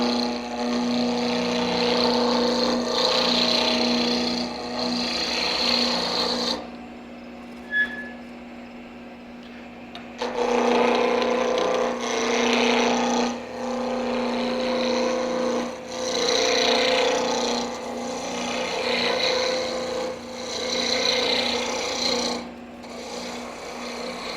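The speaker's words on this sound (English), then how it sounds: "what I'm going to do is take my spindle roughing gouge and reduce this to a diameter" A spindle roughing gouge cuts a spinning wooden blank on a lathe for a mulling stick, giving a continuous rasping, scraping sound over the steady motor hum, with a brief pause where the cutting stops, no speech.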